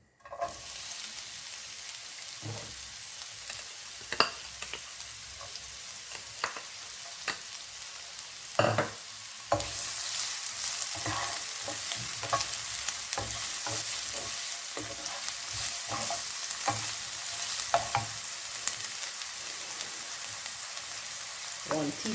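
Onion frying in oil in a pot sizzles steadily, interrupted by stirring clacks and scrapes, and the sizzle grows louder and brighter about halfway through.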